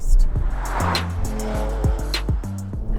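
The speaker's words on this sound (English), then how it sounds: "this is the newest version of the Macan with the biggest, most powerful engine on the lineup" A new Porsche Macan GTS with its most powerful engine option, in Sport Plus mode, accelerates hard. The engine note climbs in rising sweeps broken by quick gear changes, loud and close.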